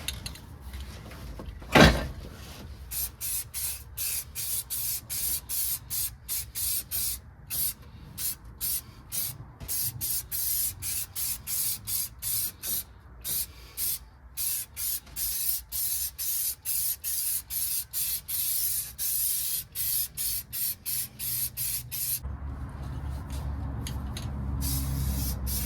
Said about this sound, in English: Trying to spray at an angle is kind of hard.